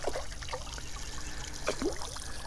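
Water from a small waterfall trickles and splashes into a backyard tilapia pond, with a few distinct drips and gurgles over a soft continuous flow, close by and without talk.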